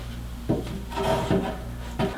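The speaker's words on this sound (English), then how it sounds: "Next I'm going to take the 80" boards and put those inside here." Wooden 80-inch boards for a DIY queen-size bed frame are slid into place, giving three dull knocking, rubbing bumps of wood against wood over a low steady hum, close and moderately quiet.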